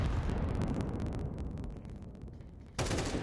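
A grenade explodes in Counter-Strike during an online North American tournament match: a dense, loud broadband blast with heavy low rumble that decays over a couple of seconds, then a sharp second burst near the end.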